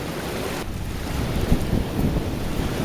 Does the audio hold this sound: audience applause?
no